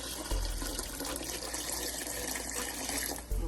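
A small splash of water pours into a pan of salmon on the stove, a steady close stream running for a few seconds before cutting off abruptly.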